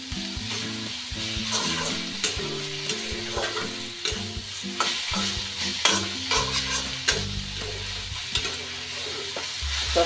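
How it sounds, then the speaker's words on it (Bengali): Fried eggplant being stirred into mustard greens in a hot pan, a continuous close sizzle broken by repeated scraping strokes of the spatula, with no talk. "বেগুন ঢেলে বেশিক্ষণ রাখার দরকার নেই, একটু মাখিয়ে নিতে হবে।"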